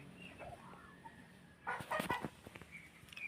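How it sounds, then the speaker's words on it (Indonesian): Chickens cluck in a brief cluster of short, fairly faint calls in the middle, over a quiet background with no talking. "Sembari dengerin ayam ya guys."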